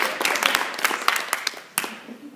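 Scattered, uneven clapping from an audience at a high school arts National Honors ceremony as honorees are recognized, with loose claps in a brief, thin burst.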